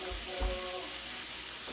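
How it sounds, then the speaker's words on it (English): Seasoned chicken pieces frying in cooking oil in pans, giving a steady close hiss and sizzle with no pauses. "And I'm frying them in just some cooking oil."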